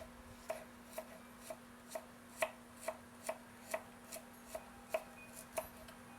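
A knife chops ginger and a small garlic clove on a cutting board in a home kitchen, about a dozen crisp, evenly spaced taps close by, alone over a faint steady hum.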